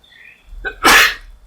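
One sharp, loud sneeze close by, with a short indrawn breath just before it and quiet afterwards.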